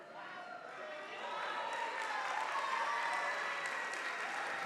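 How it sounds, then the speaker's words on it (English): A school sports awards audience applauds four-season scholar athletes, dense continuous clapping that swells after the first second and holds steady, filling the room with a few cheers mixed in. "Let's give them a round of applause"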